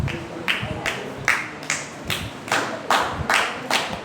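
Audience at a writers workshop clapping in rhythmic, evenly spaced bursts, loud and close, about eight distinct claps with no talking.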